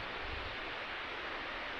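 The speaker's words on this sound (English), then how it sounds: "So there's the waterfalls over there." Waterfalls in the Scottish mountains, off in the distance on the Ring of Steall hike, make a steady broadband rush with some low rumble from wind, even and unbroken throughout.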